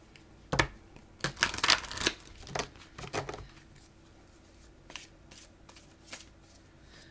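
Large tarot cards being shuffled, handled and drawn out one by one, with a cluster of close papery flicks and slaps early on, then scattered softer card sounds, fairly quiet and without talk.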